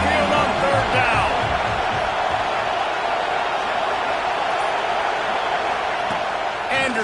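Roaring football stadium crowd at Saban Field during an Arizona versus Alabama game on third down, a dense, loud and continuous rumble of cheering with a commentator talking over it.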